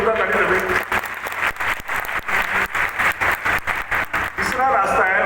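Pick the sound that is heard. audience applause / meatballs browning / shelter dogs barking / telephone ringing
audience applause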